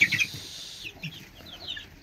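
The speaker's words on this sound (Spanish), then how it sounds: "aquí está la polladita, es la polladita que llevamos" Baby chicks peep in a coop, a cluster of high, sharp chirps bursting at the start and then scattered softer peeps following, close and fairly faint.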